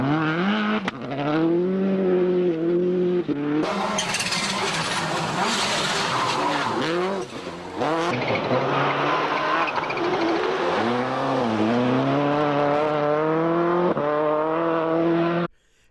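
Colin McRae's Subaru rally car at a WRC stage, engine roaring loud and close with rising and falling revs, gear changes and a burst of gravel spray or sliding mid-run before the engine note settles again.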